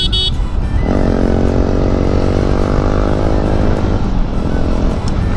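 A Yamaha MT-15 motorcycle rides along with a steady, loud engine drone and a rising tonal whine from about a second in, continuous throughout with strong wind rush and no speech.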